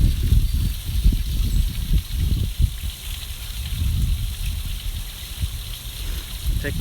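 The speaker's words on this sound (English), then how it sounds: "you can look at the waterfall." Waterfall at an outdoor sculpture park, a steady low rushing and splashing of falling water heard from a nearby bench, fairly loud and continuous with no talking over it.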